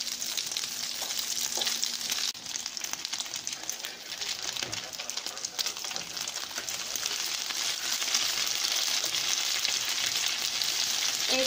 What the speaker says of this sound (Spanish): Vamos a dejar que se frían muy bien